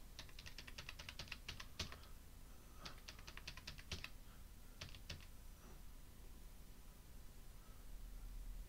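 Rapid bursts of typing on a computer keyboard while entering registration details and an email address, crisp close key clicks in clusters separated by short pauses.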